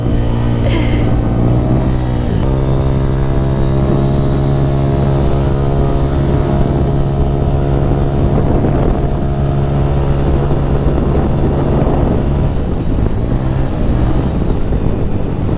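A modified motorcycle with an aftermarket pipe and a sluggish engine, heard close and loud as it revs up and holds a steady, buzzing exhaust drone, with wind noise buffeting the microphone.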